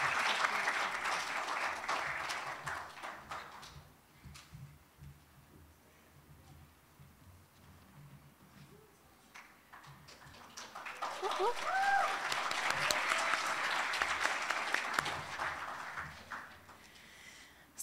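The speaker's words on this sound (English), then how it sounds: "Can we just give her a round of applause?" A senior graduation audience at a Christian academy breaks into sustained applause, fading to a quieter stretch with scattered claps before swelling again into a second full round, with voices and a brief whoop in the crowd.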